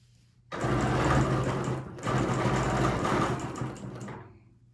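A sewing machine stitches a quilt design in two sustained runs of rapid, even stitching, split by a brief pause and heard close up with no talking.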